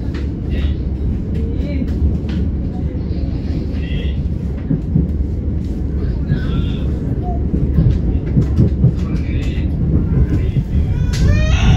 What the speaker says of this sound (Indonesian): itu kereta api Erlangga dari Surabaya tujuan Jakarta Pasar Senen. Kita menyusul Erlangga di sini.